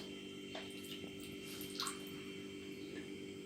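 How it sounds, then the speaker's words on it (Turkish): Salt brine is poured for pickling grape leaves, giving quiet, intermittent splashing and dripping of water over a steady low hum, with no talking. "Şimdi bu tuzlu suyumuzu koyacağız."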